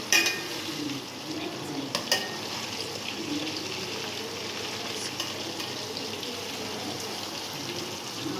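Homemade French fries frying in hot oil and being stirred: a continuous bubbling sizzle with a few sharp utensil knocks against the pan near the start, then steady frying.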